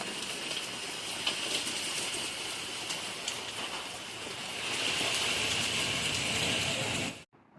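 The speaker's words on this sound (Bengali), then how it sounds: "এখন আবার আগের থেকে জোরে জোরে বৃষ্টি হচ্ছে।" Heavy rain pours down in a steady, broad hiss, growing noticeably louder and denser about two thirds of the way through before cutting off abruptly, with no talking.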